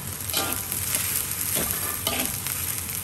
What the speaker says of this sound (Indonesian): Bolehlah kita masukkan nasi kita. Okey, kita kacau rata